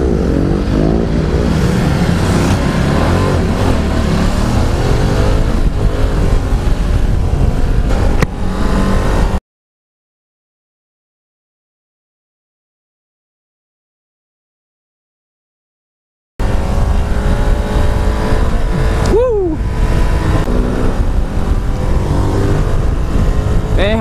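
A Ducati Multistrada 1260 Pikes Peak motorcycle accelerates hard, its loud engine roaring and rising through the revs, cut off by a silent gap before the roar resumes with a gear shift.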